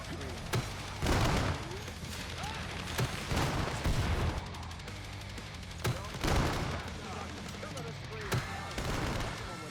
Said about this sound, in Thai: ผมก็จะใช้ปืนพกยิงไปก่อนนะ